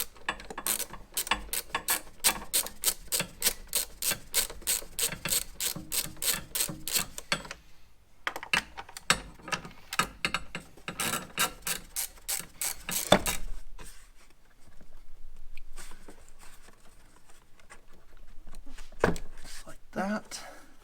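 A ratchet with a short extension backs out 10 mm cover bolts on an Alfa Romeo Giulia or Stelvio: rapid close clicking in several bursts, with pauses between them and a voice talking now and then.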